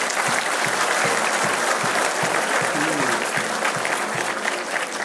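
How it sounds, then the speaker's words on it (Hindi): Audience applause at the Delhi Startup Yuva Festival, a dense, even crowd clapping that holds at a steady loudness throughout. "पर मुझे आपकी तालियों की आवाज़ कम आई"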